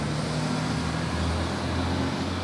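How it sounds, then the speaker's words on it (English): A bus driving past on the road outdoors, a steady low engine rumble with broad road noise holding at a fairly loud level throughout, with no talking. "truck coming past in the background, or should I say a bus going past in the background"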